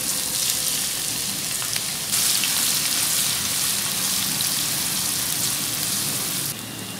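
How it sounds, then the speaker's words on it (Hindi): Onions fry in a pan over a medium flame, giving a loud, continuous sizzle that carries on steadily throughout with no talking. "प्याज ऐड करके ट्रांसपेरेंट होने तक मीडियम फ्लेम पे फ्राई करें।"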